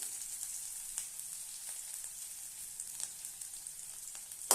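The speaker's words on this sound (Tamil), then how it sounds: "நல்லா பொடியாக கட் பண்ண வெங்காயத்தை சேர்த்துடலாம்" Finely chopped onions frying with chillies in a pan, a faint, steady sizzle with a few soft stirring ticks and a sharper clink at the end, no voices.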